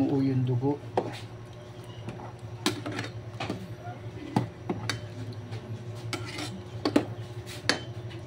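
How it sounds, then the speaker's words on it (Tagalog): A metal spoon clinks and scrapes against a pot while pork blood stew (dinuguan) is stirred, with scattered sharp knocks over a low simmering hum. "Ating haluin upang hindi mamuo yung dugo"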